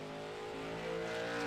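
Race cars in a sim racing game at New Smyrna Raceway, a steady engine drone with harmonic whine that swells slightly louder toward the end, no voices.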